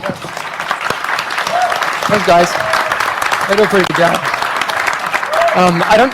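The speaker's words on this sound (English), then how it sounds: "So I think they deserve a round of applause." An audience at a gaming event for a video game applauds in a sustained round of clapping while someone speaks over it.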